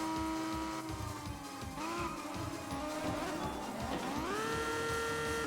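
In GT Cube, a car parked on dirt gives off a continuous strained engine drone with wavering, whining pitch that dips and rises, loud and close with no voices.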